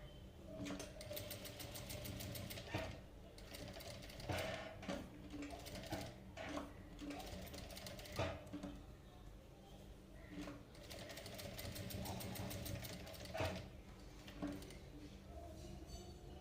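A sewing machine stitching cutwork piping runs in several bursts of rapid, steady clatter separated by short pauses, heard close, with a voice talking faintly between the runs.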